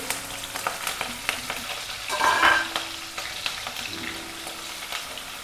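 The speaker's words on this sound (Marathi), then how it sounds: "आता हिरव्या मिरचीचे तुकडे तळून घ्यायचे" Green chili pieces sizzle and crackle steadily in hot oil while a makhana chivda fasting snack is prepared, with scattered pops and stirring scrapes, close and alone.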